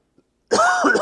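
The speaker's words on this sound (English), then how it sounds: "sorry about the coughing." A single harsh cough from someone with a cold bursts out close to the microphone after a brief silence.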